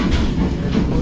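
Karachi Express train rolling slowly along the track, a steady low rumble with faint clatter from the carriages, heard close and continuous for a brief moment.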